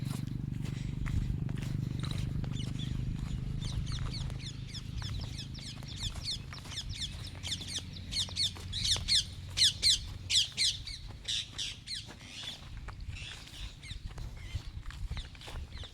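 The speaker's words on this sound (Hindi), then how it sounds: "और खेतों में ना पंछियों की इतनी अच्छी आवाज़ें आती हैं ना, बहुत अच्छी, सुन के सुकून मिलता है।" Birds call across farm fields in the morning, with quick, repeated high chirps and trills from several birds nearby. A low rumble at the start fades away.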